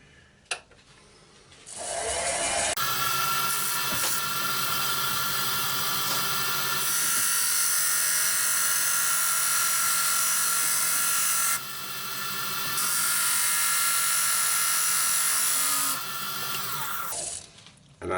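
A wood lathe cutting an angled undercut on a tenon meant for chuck jaws: a loud, steady, high-pitched whine with a harsh scraping edge that starts after about two seconds, dips briefly midway and runs close and alone until it stops near the end.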